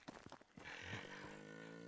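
A bull and a cow mooing in a farm-building video game, one long low drawn-out moo after a few short thumps, quiet and clear with no talking.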